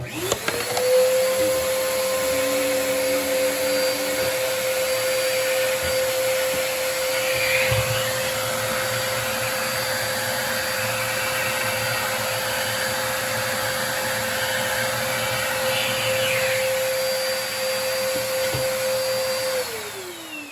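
A vacuum cleaner runs steadily and loudly for the whole stretch, drawing up debris from around a PVC toilet flange, its whine holding constant with occasional rattles of material being sucked in.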